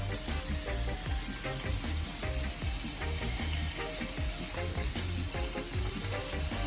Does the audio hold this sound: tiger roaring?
no